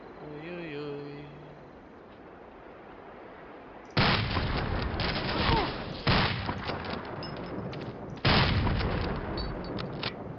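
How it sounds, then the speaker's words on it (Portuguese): A video-game explosion in Medal of Honor Allied Assault, three loud broadband blasts with rumbling tails arriving a couple of seconds apart after a quieter stretch with faint tones. "foi uma explosão, o gajo estava a fumar lá ao pé e aquilo estourou tudo"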